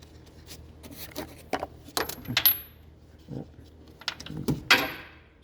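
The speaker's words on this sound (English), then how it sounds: "Oh, I dropped the socket here." A socket drops onto metal during coolant temperature sensor work on a 2016 GMC Sierra 1500, giving several sharp metallic clinks and rattles in short bursts, close by, with quiet gaps between.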